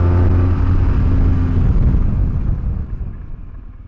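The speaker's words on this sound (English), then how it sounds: "We put all bikes through panic braking, straight line, about 60 miles an hour" A BMW R1200GS motorcycle brakes hard from about 60 mph in a straight line, a loud rumbling rush of engine and wind that fades away quickly as the bike slows.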